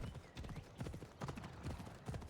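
Horse hooves clip-clop in a steady galloping rhythm in the video game Assassin's Creed Odyssey, close and continuous throughout.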